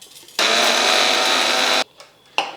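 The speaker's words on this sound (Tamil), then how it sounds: "இப்போ நான் வந்து இதை மிக்ஸி ஜாரில் சேர்க்க போகிறேன்." A kitchen mixer grinder runs loud and steady for over a second, whirring as it grinds salt into homemade soup powder in a mixie jar, then cuts off and gives a brief second burst.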